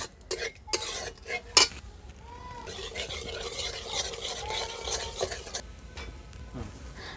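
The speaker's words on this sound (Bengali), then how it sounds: "টক দইটা দিতে থাকবো আর নাড়তে থাকবো খুন্তি দিয়ে।" Curd stirred with a spatula into a spice mixture for a pointed gourd curry, giving soft scraping and wet stirring sounds over a low sizzle, with a few sharp clinks of metal near the start.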